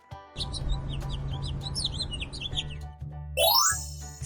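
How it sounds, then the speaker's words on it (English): A finch chirps in a busy run of short, high, quick chirps and twitters over a low steady background hum, with a brief rising swoop near the end and no voices. "Finch."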